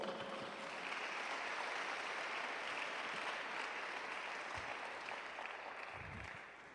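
A church congregation at a youth camp service applauds, a soft continuous wash of clapping that holds steady for several seconds and tapers off at the end.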